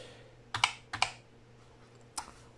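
A few keystrokes click on a Dell Optiplex 760 SFF desktop's keyboard, two quick pairs of clacks then a single tap, close and crisp against a faint steady hum.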